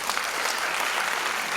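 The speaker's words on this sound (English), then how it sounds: "A big round of applause for" A crowd at a West African Examinations Council ceremony in Freetown, Sierra Leone, claps in dense, steady applause, loud and sustained for the whole brief moment.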